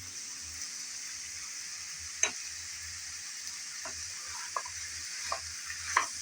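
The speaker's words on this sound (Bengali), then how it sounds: "সবগুলো দিয়ে আবারও নেড়ে চেড়ে ভালোভাবে কষিয়ে নিতে হবে" Spiced pickle roasting in a pan with chilli, turmeric and ground spices, a steady frying sizzle broken by scattered ticks of a spoon as it is stirred, no voices.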